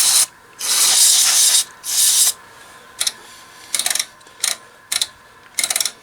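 Contact cleaner sprays onto the wafer switch of a Kenwood TS-520 radio: two long hissing bursts, then a string of short, sharp spurts, loud and close.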